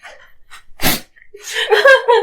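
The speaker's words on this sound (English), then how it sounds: "She sneezes several times." A person acting out a character's sneezing during a Dungeons and Dragons 5e tabletop session lets out one sharp, loud sneeze, with softer breathy vocal sounds before it and voiced gasps after it.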